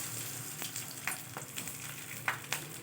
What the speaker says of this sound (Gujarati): એકદમ તેલ સરસ ગરમ થઈ ગયું છે અને હું હવે આ જે સાબુદાણા બટેકાના પાપડ કર્યા હતા એને તળવાની છું.